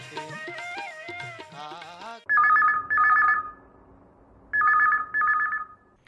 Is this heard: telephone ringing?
yes